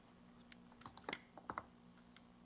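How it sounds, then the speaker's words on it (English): Quiet, sparse typing on a computer keyboard picked up over a live stream's background: a few scattered clicks and key taps with short pauses between them, faint and alone. "I hear your keyboard."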